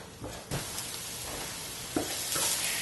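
Olive oil heats over high flame in a pan, giving a soft, continuous sizzle and hiss with a couple of faint clinks, quiet and steady throughout.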